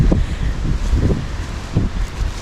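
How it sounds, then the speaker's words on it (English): Outdoor wind on a farm buffeting the microphone, loud low rumbling gusts in irregular bursts with a broad airy hiss, no voices. "It's a bit windy."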